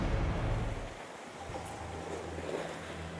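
Choppy, high water in Matagorda Bay at Port O'Connor, Texas, sloshing and churning steadily under gusty wind noise, with a low rumble throughout and no talking.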